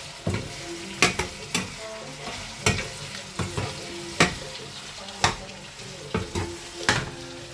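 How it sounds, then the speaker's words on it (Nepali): Pork frying in a pan while being stirred, with a steady sizzle broken by repeated sharp scraping strokes of a utensil at a regular rhythm, close and clear, no talking. "यसरी मासु हालेर चलाउनु पर्छ"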